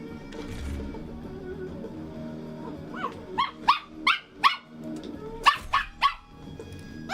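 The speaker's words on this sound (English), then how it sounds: "You got something to say, little dog?" A small dog lets out a quick run of sharp, high yipping barks in two close bursts, preceded by a quieter whine.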